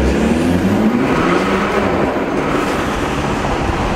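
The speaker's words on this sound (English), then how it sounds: "I'm gonna do a little rip right here in first gear." A tuned BMW accelerates hard in first gear with a loud, continuous engine roar that climbs steadily in pitch as it revs, heard close and with no talking.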